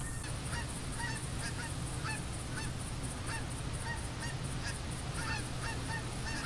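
Geese honk repeatedly in a scattered flock chorus over a steady low rumble of background noise, with no voices, in the hunting video game theHunter.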